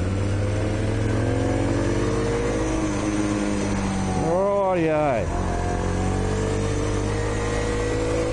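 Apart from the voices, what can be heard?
overhauled motorcycle engine running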